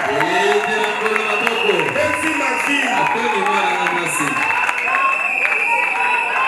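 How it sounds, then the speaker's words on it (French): A crowd claps and cheers steadily with scattered shouts at a church wedding blessing, while voices talk over the noise throughout. "Applaudissez le Seigneur."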